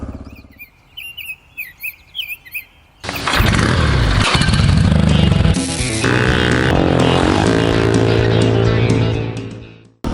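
Birds chirp in a quiet outdoor setting, then a 2004 Honda XR400R motorcycle engine abruptly bursts to life. It runs loud and close, with a steady roar and a brief shift in pitch, until it cuts off near the end.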